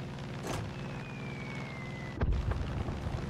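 A bomb explosion in the video game Far Cry 5 lands as a sudden low boom partway through, over a steady hum of game engine noise and a brief whistling descent.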